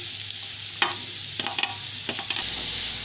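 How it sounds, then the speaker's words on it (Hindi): Chopped capsicum sautés gently in a pan for vegetable cutlets, with a soft continuous sizzle and a handful of spoon scrapes and taps as it is slowly stirred, close by and without talk. "इसे आहिस्ता आहिस्ता मिक्स करेंगे और हल्के हल्के चमचा चलाते रहेंगे इसमें, ताकि ये जलने ना पाए।"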